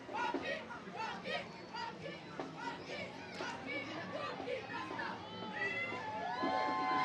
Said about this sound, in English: They did a great little cheer right here.